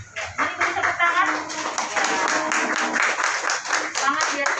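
At a Catholic women's association meeting, an audience applauds a candidate with a dense, lively round of clapping from many hands, steady and fairly close, with voices talking over it.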